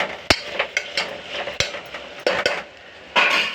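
Ivy gourd and chana dal frying in oil with mustard seeds, cumin and curry leaves, stirred with a utensil that scrapes and clinks against the pan in sharp irregular strokes over a faint steady sizzle.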